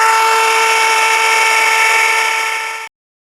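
A rotary power tool whines loudly and steadily while carving a wooden wood spirit, holding a high, even tone for nearly three seconds before cutting off abruptly into silence.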